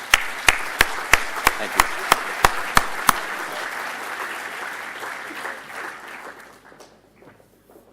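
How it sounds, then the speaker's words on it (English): A conference audience applauding at a closing plenary, steady clapping that fades out over several seconds, with a few loud sharp claps near the microphone at the start and a brief spoken thanks. "one more round of applause for our STI team"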